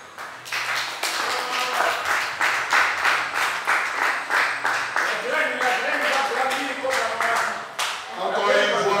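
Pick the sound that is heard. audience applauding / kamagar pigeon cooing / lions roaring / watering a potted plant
audience applauding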